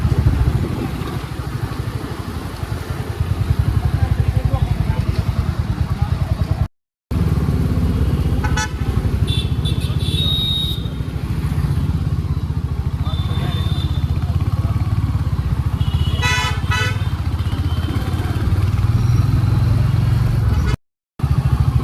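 Congested road traffic in Pandharpur, with motorcycle engines droning steadily and several car and bike horns honking intermittently nearby, under a constant loud rumble of vehicles.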